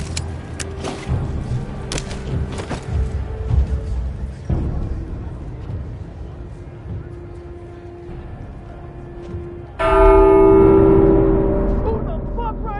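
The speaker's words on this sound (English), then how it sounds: "Who the fuck rang the bell?" A church bell rings out loud and sudden inside the game The Walking Dead: Saints and Sinners, bright sustained tolls cutting in over earlier talk and rumbling background noise.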